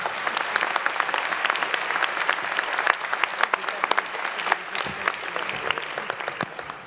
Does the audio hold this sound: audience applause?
yes